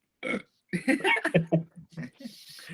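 Burp from a band member during an interview: one short belch near the start, followed by someone talking, with faint laughter-like sounds and background noise toward the end.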